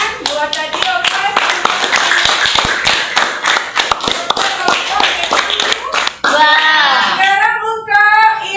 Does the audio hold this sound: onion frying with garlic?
no